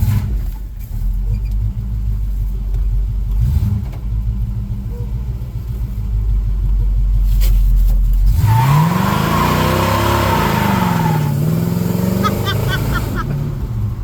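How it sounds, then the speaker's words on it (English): A revived 1975 El Camino with a carburetor rumbles loudly at idle, then its engine revs hard and climbs in pitch for a burnout, the sound staying close and continuous throughout. "Think it'll do a burnout?"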